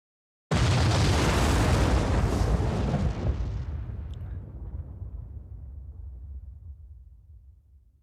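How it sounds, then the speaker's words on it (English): A large explosion in the video game Zero Time Dilemma erupts suddenly and loudly, then rumbles and fades out slowly over several seconds. "More explosions."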